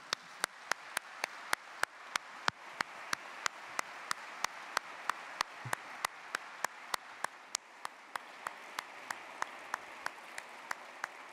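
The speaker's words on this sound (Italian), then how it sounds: "Lo salutiamo con un applauso e lo invitiamo a intervenire" Sparse, steady applause from an audience welcoming a speaker to a talk, individual claps distinct and evenly spaced, fairly quiet and continuing alone for over ten seconds.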